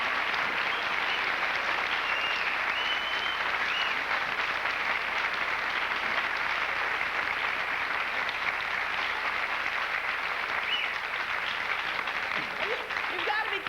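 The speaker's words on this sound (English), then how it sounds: "Did they tell you to clap that long? You said it's the phoniest clapping I've ever heard in my entire life." Long, sustained studio audience applause on a 1994 comedy television show, a dense, steady wash of clapping that holds at full loudness for the whole stretch without letting up.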